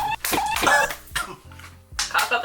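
Several harsh coughs close to the mic, bursting out in a quick uneven cluster with short pauses between them.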